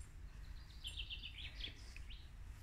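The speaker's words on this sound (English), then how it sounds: "it's just the wee birds we can hear now" Small birds in a Scottish forest give a quick series of high, faint chirps and twitters over a quiet, low outdoor rumble.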